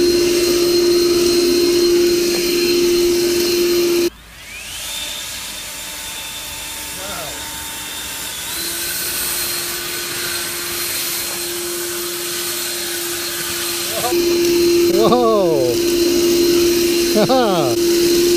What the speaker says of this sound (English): This is the ego 56 volt on high. And then I'm gonna hit turbo.